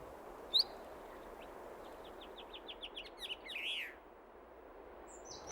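A blue chaffinch calls in the Canary Islands, a faint sharp chirp followed by a rapid descending series of thin tweets from a bird at moderate distance over a quiet, hissy outdoor background.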